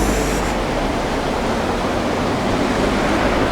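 The Itokawa river in Atami flows as a loud, steady broadband rush of water, close and unbroken throughout with no voices.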